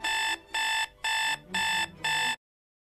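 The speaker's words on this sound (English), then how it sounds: "my alarm going off to wake up for dance" A morning alarm clock goes off with five loud, evenly spaced electronic beeps, each a sustained bright tone with short gaps between them. No one speaks.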